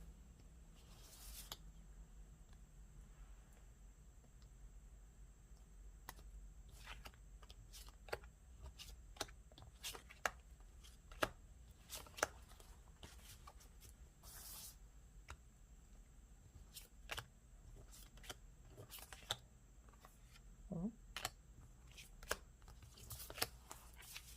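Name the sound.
tarot cards being shuffled and drawn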